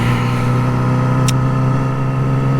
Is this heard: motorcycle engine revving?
yes